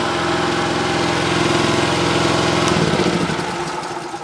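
MOLLAR MLR 4500 SE petrol generator, a 3100-watt unit started manually, runs with a loud steady engine drone up close, its pitch and rhythm shifting as it settles partway through.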